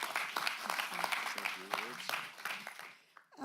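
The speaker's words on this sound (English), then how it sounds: "let's give her a round of applause first, and thank you." Applause from a gathered crowd at a county board of supervisors meeting, moderately faint and continuous, with people talking over the clapping.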